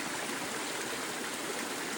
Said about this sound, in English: I noticed this little bitty waterfall